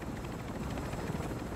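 Helicopter rotor drone in the video game Call of Duty: Warzone 3, a steady, close, dense thrum that holds at an even level throughout with no talk over it.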